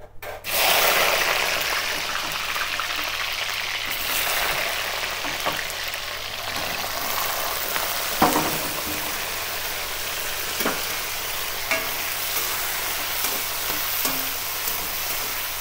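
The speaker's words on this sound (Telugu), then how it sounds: "ఆయిల్ వేడెక్కినాక ముక్కలు వేద్దాం." Bitter gourd (kakarakaya) pieces fry in hot oil in a kadai, giving a steady, close sizzle throughout with occasional soft clicks and scrapes, and no talking.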